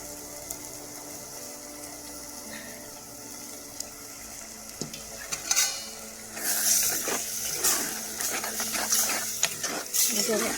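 Yogurt stirred into a cooking bottle gourd curry, with wet, squelching spoon strokes and a light sizzle that grow louder and busier partway through, close by.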